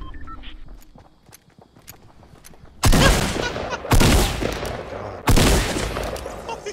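Gunfire in Fortnite aimed at a fence: three loud bursts of rapid shots, each cutting in abruptly and lasting about a second, after a quieter stretch of light footsteps and scattered clicks.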